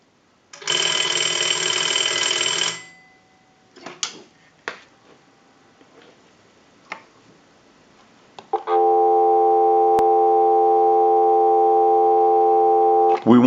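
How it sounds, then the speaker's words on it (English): A Western Electric 236G-3 slot payphone sounds a loud, steady dial tone of about five seconds near the end, following an earlier burst of tone and a few faint clicks and knocks from the handset. "we'll give you some dial tone."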